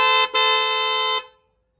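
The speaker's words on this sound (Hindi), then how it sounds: "तो ये हॉर्न जो है इसमें फिट हो गए हैं हमारी HJ61 में।" A loud, bright, newly fitted horn on a Toyota HJ61 blares close by, briefly interrupted then sounding again for about a second before cutting off.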